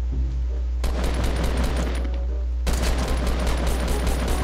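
Dense Fortnite Battle Royale gunfire, a continuous loud barrage of overlapping shots that cuts in abruptly twice and persists throughout with no talking.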